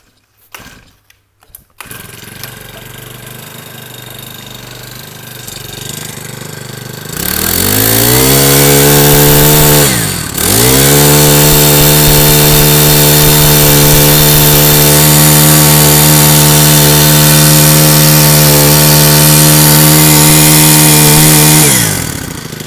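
A small four-stroke brush cutter engine, a Japanese U12 model, is pull-started and catches, then runs at a steady loud idle, briefly dipping once before settling into an even drone.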